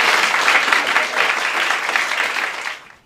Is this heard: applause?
yes